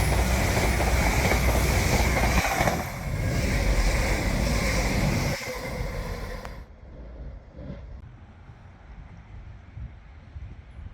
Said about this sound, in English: I'm taking a train journey along the Tees Valley line from Saltburn through to Bishop Auckland